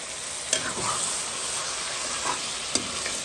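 Carry ti jacques boucané, jackfruit curry with smoked pork, sizzles in a pan as it is stirred, a steady frying hiss broken by two sharp utensil scrapes against the pan.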